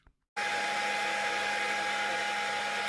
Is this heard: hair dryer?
yes